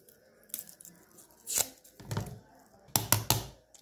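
Fresh ginger and garlic rubbed against a hand grater, several short rasping bursts separated by brief pauses, close and fairly quiet.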